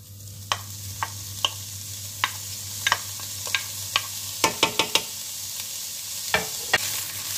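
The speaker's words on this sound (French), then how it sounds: "Donc je viens faire revenir les lardons" Lardons frying in a pan on a stovetop, a soft continuous sizzle broken by a series of sharp scraping clicks as they are stirred and turned, close and unaccompanied by talk.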